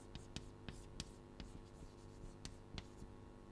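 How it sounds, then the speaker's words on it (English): Writing on a board during a lecture: a series of soft, close scratchy strokes with short sharp taps between them, fairly quiet over a steady low room hum, with no speech. "I am going to just go free form writing"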